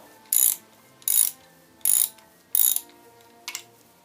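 A ratchet spanner working on a Honda VF750F motorcycle engine during a teardown, five crisp clicking bursts at an even pace, close and loud with quiet gaps between them.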